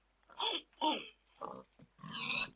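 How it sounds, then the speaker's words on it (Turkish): Pig grunts from the video game Minecraft come as four short snorting oinks in a row, clear and close with no talk over them. "Domuzcuk sesleri."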